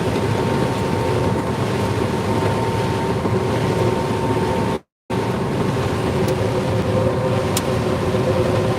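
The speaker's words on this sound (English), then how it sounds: "Head's rattling something fierce." A combine harvester working a field in northern Illinois gives off a loud, continuous mechanical roar and rattle from its head, with a brief break midway before the clatter resumes.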